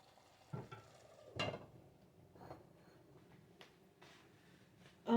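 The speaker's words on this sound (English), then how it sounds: "I'm giving my stew a little mix, just a gentle mix" A spoon stirring stew in a pot, giving a few soft scraping and sloshing strokes at close range, quiet overall with a faint background hiss.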